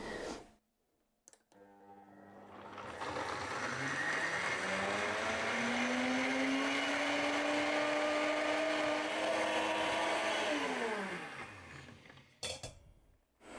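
A blender grinding oats for oat milk on its smoothie program roars up to full speed, grinding with a rising whine that holds steady for several seconds before winding down and stopping.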